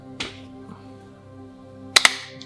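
Two quick, sharp hand claps close to the microphone for syncing a camera, spaced a beat apart in a quiet room, with brief speech just before.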